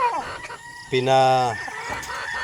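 A young gamecock (broodstag) on a gamefarm crows once, a loud drawn-out cock-a-doodle-doo close by, with faint background noise before and after.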